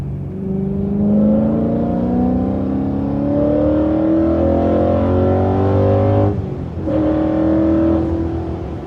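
A BMW E92 M3 driving and turning, a loud steady engine drone close up with rising pitch as it accelerates, a brief dip during a gear change, then pulling again.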